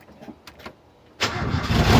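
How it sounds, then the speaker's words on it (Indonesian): A Toyota Kijang with an ECM idle-control fault cranks briefly and then catches as the gas pedal is held down. The engine rises quickly into a loud, rough run that grows louder toward the end. "harus kita injak gas saja baru dia bisa menyala nih ya"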